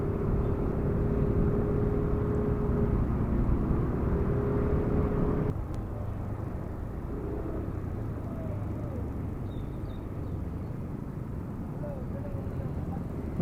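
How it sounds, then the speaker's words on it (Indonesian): Steady road traffic with cars heard from a moving motorbike, a continuous broad rumble and whir of engines and wind that drops slightly partway through, with occasional faint tonal sweeps from passing vehicles. "Di depan kita banyak mobil."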